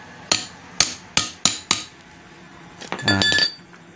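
Fork seal on a Yamaha RX-King front shock clicking into place, heard as five sharp metallic taps in a steady rhythm followed by a brief clattering burst, close and fairly loud with no talking.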